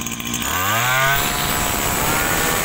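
A Magu 320 backpack brush cutter engine starts up and revs, its pitch rising then settling into a steady, loud two-stroke drone close by.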